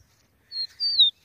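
A caged rufous-collared sparrow sings a short, thin whistled phrase, two high sliding notes close together in an otherwise quiet setting.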